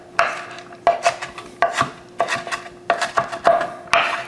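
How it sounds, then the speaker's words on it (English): A knife chops ingredients for a summer crab pasta salad on a board, about seven distinct close, crisp knocks with a dull woody thud, separated by short pauses. "get the chopping."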